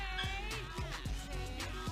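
A cat meows several times in quick succession, clear and fairly close, with a steady background hum and some soft thuds.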